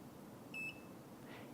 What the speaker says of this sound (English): keep holding them till you hear the beep